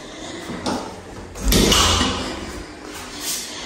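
A door slides open at about mid-clip with a scraping rush and low thud, preceded by a softer knock, inside a townhouse unit fitted with aluminium cabinets; no speech.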